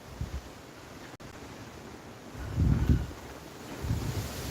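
Wind gusts buffet a microphone outdoors in a low rumbling roar that swells twice, with a brief click early on.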